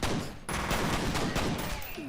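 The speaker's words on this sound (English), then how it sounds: "At least the pistols sound medium" Rapid pistol gunshots from the shooter game F.E.A.R., a dense run of sharp reports over loud, busy game noise with no clear pauses.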